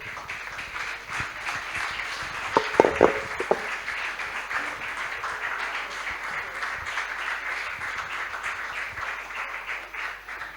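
A church congregation applauds after a sermon on discipleship, steady dense clapping that stays at an even level throughout, with a few louder close claps standing out briefly near the start.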